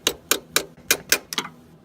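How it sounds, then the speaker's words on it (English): A hammer taps a shifter linkage bushing on an 8th/9th gen Honda Civic Si, six sharp metallic knocks in an irregular rhythm, close and clear with no talking. "You're going to want to tap it with a hammer, or the end of your channel locks"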